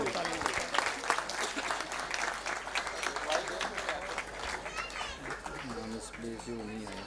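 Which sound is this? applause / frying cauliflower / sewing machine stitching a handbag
applause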